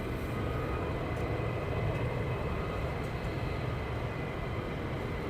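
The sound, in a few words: fighter jets taxiing and starting up at RAF Lakenheath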